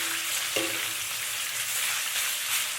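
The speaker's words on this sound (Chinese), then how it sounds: "倒入焯过水的牛腩" Blanched beef brisket stir-fried in a wok with hot oil, ginger, bay leaves, cinnamon and dried red chilies, a dense close sizzle with one brief spatula clink.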